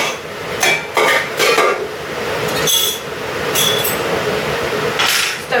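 Sterilised glass jars are set down on a clean tray, several sharp clinks and knocks arriving in quick bursts close by over a steady background hiss, with no talking.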